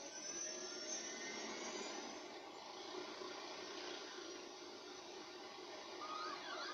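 Helicopter engine in the video game Far Cry 4 as the aircraft climbs and the engine fails: a steady, loud whining roar that drones on without pause, slightly wavering in level, with no talk over it.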